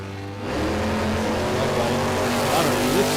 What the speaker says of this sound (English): I hear these guys dyno-tuning the cars.